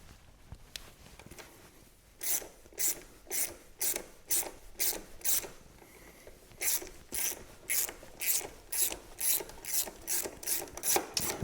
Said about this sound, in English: So I'm going to start by using a 12mm socket, and there's two bolts here